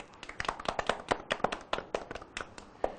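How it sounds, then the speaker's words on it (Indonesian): Sparse handclaps from a small audience welcoming guests at a Sharp Indonesia press conference launching the AQUOS Sense4 Plus, a few dozen sharp, uneven claps close by over about three seconds, no talking. "Boleh tepuk tangan?"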